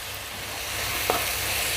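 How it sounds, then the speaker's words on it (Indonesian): Spice paste sautéing in oil with bruised lemongrass, galangal, bay leaves and kaffir lime leaves, a steady, close, even sizzle with one brief stirring knock partway through; no talking. "Ini ditumis-tumis sampai harum ya."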